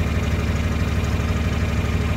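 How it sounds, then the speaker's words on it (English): A farm tractor idles steadily up close, its engine giving a loud, even, low rumble with a rapid knocking pulse and no other sounds. "I gotta leave the tractor running because I'm afraid it's gonna lose its prime and not want to start."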